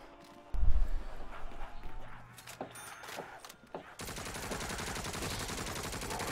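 Gunfire in the Call of Duty Zombies game on the Moon map, a heavy boom followed by scattered shots and then a steady rapid burst of automatic fire, with faint voices in the background.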